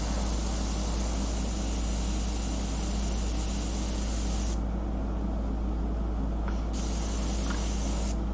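An airbrush sprays paint onto shellac-covered paper as a steady, continuous hiss that runs unbroken at close range. Its tone thins briefly partway through, and no voices are heard.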